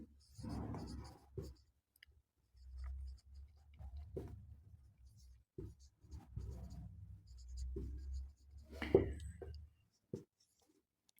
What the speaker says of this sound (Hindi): मैं आपको लिख देता हूं,